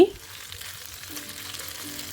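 Pork sizzles steadily in hot oil, a soft, close crackle that continues without pause and without any voices.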